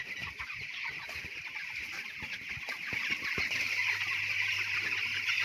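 Chickens cluck steadily inside a poultry farm shed on a cold, foggy morning. The clucking is a dense, continuous chorus of many birds at a moderate distance, joined by a low, steady hum in the second half.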